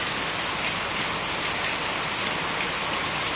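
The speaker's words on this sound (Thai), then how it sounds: "ฝนตกมาพอดีเลยฮะ" Steady rain falls during an outdoor cooking session, a dense, even hiss of drops that continues without a break, close and loud, with no talking.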